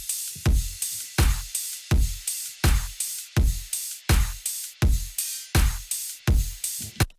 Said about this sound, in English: And then I've made my own percussion because I couldn't find the clap that sounded right.